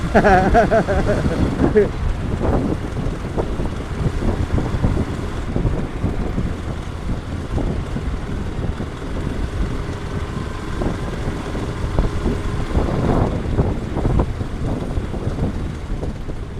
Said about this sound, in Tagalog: ang lakas ng impact ng hangin